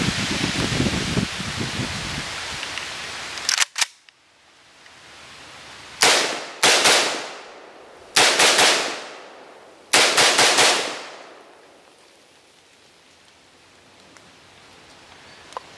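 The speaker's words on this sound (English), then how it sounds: "That was just 10 rounds with the AK." Ten rounds from an AK rifle, heard as four or five loud bursts of sharp cracks with decaying echoes, separated by short pauses after an earlier rush of noise, muffled as if through headphones.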